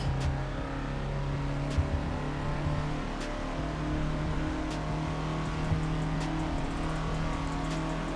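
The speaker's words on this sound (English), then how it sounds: "Just pushing the 55 horsepower to its limit going up this hill. Absolutely throttling it." A 55-horsepower Reliant Robin engine held at full throttle climbing a hill, a steady, loud, strained drone heard close up from inside the car, continuous without a break and with no talk.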